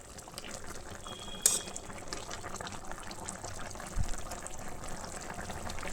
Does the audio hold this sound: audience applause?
no